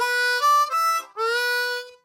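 A harmonica plays a short phrase, its bright reedy tones scooping upward on a 3-hole draw bend, then returning with a second rising bend into a held note, close and alone.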